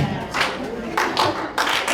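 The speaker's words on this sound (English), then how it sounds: "My favorite, and I know their favorite, is the echo of the ace clap." A volleyball team's ace clap at a high school fall sports banquet, three sharp bursts of group clapping spaced about half a second apart, ringing with echo in a large room.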